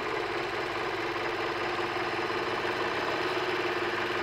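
An overlocker sewing machine runs steadily, giving a continuous, dense, fairly loud mechanical whir with a fast underlying rhythm and no pauses or voices.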